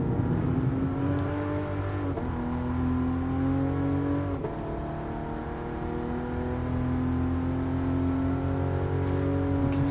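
A Toyota GR Supra race car engine in a sim-racing GT Cup race revs loud and close, a steady climbing whine broken by two quick gear changes, with no talking.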